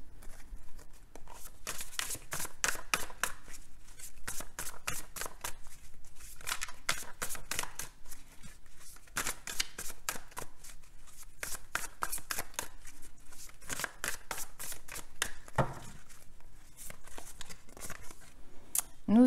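Tarot cards being shuffled by hand in a run of rapid papery riffles and slides, steady and close, broken by short pauses, with no voices.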